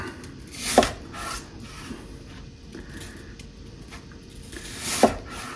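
A knife slices an apple into eight pieces for an American apple pie, with two crisp cuts several seconds apart against quiet kitchen background, fairly soft and close.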